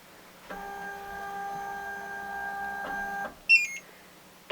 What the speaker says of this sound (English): I'm just going to send the next part of engraving across.